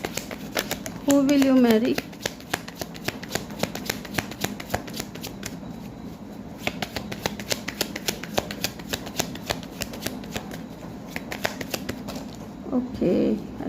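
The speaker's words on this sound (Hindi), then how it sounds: "एक कार्ड मैं अपने मन से निकाल लेती हूँ।" Tarot cards shuffled and drawn during a reading, a continuous stream of quick, close card flutters and snaps, with someone speaking briefly at the start and end.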